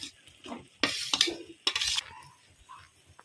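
Grated fresh coconut is stirred into a poha tempering in a pan with a spoon, producing two short bursts of scraping and clinking metal against the pan, separated by brief pauses, close up.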